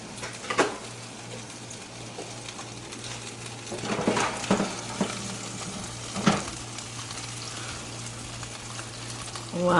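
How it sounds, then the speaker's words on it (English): Chicken wings sizzle steadily in hot oil throughout, a continuous close crackle with occasional louder pops and utensil stirring sounds. "Wow, you hear that sizzling?"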